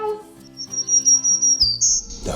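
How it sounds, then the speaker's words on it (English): Warblers give high, thin whistled calls and chirps, close and clear, indoors, over a faint low hum. "The birds are calling from inside the house."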